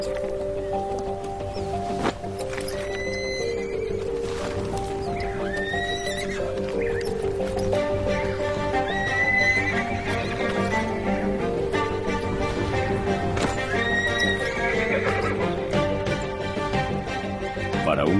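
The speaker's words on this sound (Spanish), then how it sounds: "Poco a poco acostumbran a un joven potro al bocado y la silla." A young horse whinnies repeatedly in open Patagonian country while hooves clip-clop and shuffle nearby, over a steady background of ambient sound and faint rustling.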